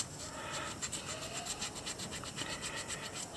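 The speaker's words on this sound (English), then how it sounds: "I'm just using the corner of the sandpaper and the edge of my fingernail and just sand in there as best as you can" The corner of a piece of sandpaper rubs rapidly over an echinoid fossil on a multi-block, a close, faint, rhythmic scratching rasp repeating in quick back-and-forth strokes.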